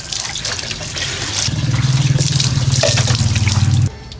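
Water gushes from a tap into a bathing area of newly poured cement, a steady hissing splash that thickens partway through and then stops abruptly.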